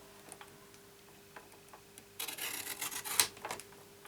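Card is sliced on a paper trimmer in a quiet craft room, giving a soft, scraping rasp that builds over about two seconds and ends with a brief crisp snap.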